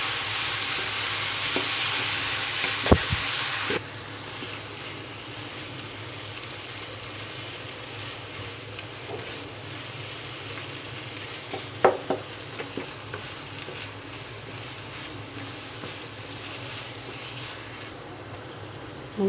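Chicken keema fries in a pan, giving a low continuous sizzle with a few sharp clinks of stirring. There is a brighter hiss at the start, and the whole thing is fairly quiet and close.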